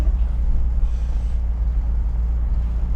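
A car pulls out onto a highway near Mexico City, its steady low engine and road rumble droning continuously with no speech.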